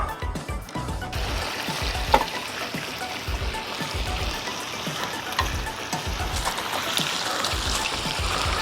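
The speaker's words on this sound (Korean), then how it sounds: "요래가지고 이제 나머지는 요 팬에다가 바짝 구워 볼게요" Jeju black pork, already charcoal-grilled, sizzling and crackling in a frying pan by the seaside, a steady hiss with repeated low thumps of the meat being moved and stirred.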